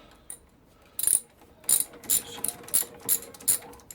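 A ratchet wrench loosens a 14mm bolt on a motorcycle rear brake, giving a run of sharp metallic clicking bursts at a steady, near rhythm with no talking.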